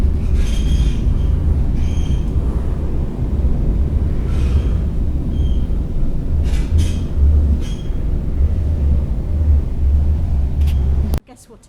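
Loud, steady rumble of a train on the Bergen–Oslo line in Norway, high in the mountains above the tree line, with faint clatter and brief squeals on top, ending abruptly.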